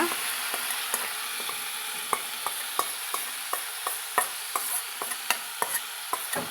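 Chicken marinade sizzles in a pan with golden fried onions while a spoon stirs it, giving a soft frying hiss and a run of sharp, irregular scraping clicks, close and without talk.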